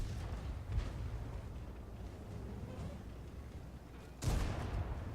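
A tank cannon fires during a World War II tank battle video game, a sharp loud boom near the start and a second heavy blast toward the end, with a constant rumbling engine and battle background between them.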